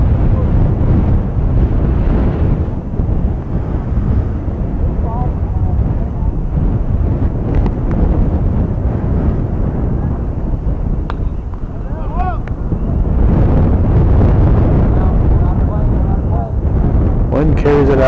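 Strong wind buffeting an outdoor microphone at a high school baseball game, a continuous heavy rumbling roar with gusty swells, while people talk over it.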